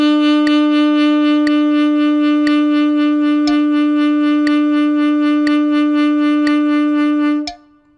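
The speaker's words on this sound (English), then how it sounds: "I set the metronome to 60 beats per minute, and then I create 4 pulses over 1 beat." A saxophone holds one long, loud note with vibrato, paced against a metronome at 60 bpm whose sharp clicks land once per second before the note cuts off near the end.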